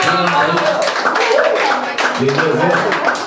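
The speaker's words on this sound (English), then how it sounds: "Y'all give a round of applause, man." Audience at a writing-session open mic clapping in scattered bursts, close and lively, with people talking and calling out over the applause throughout.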